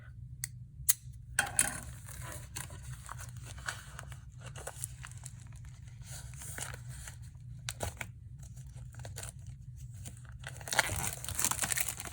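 A craft knife slices open Paper Pumpkin kit packaging, scattered crisp scratches, crinkles and tearing rasps over a low steady hum, quiet and close, with a louder burst of crinkling near the end.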